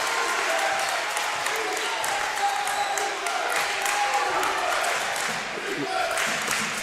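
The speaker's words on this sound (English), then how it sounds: "Crowd comes alive." Crowd at a men's college basketball game between Shawnee State and Rio Grande erupting after a three-pointer, steady cheering and clapping in a gym, moderately loud and continuous with voices mixed in.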